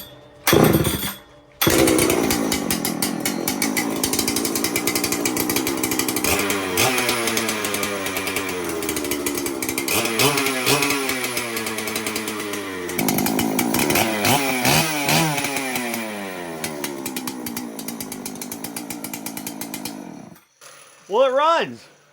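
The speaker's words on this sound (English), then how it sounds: "I was so excited to start this saw that I forgot to choke it." A massive 120cc budget chainsaw engine runs loud and close for about twenty seconds, revving up and down in rising and falling sweeps, then cuts out briefly before a short final burst.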